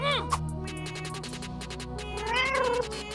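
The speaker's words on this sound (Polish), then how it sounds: "No, kotku, powiedz miau." A cat gives drawn-out, wavering meows, close and fairly clear, with sliding tonal cries over a faint background and no talking.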